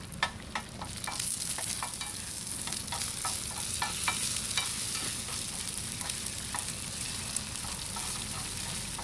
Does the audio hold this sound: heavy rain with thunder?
no